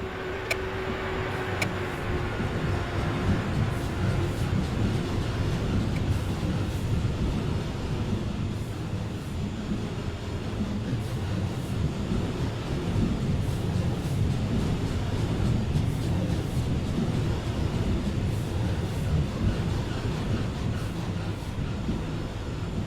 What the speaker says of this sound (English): now here comes a Class 90 freighter on the fast line